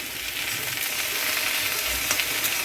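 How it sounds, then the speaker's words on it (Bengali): Okra (bhindi) fries in a pan with a dense, steady close-up sizzle and crackle and occasional low stirring thumps, with no speech, during a rainy flood-time day at home. "এখন ভেন্ডিটা ভাজা বসে দিলাম"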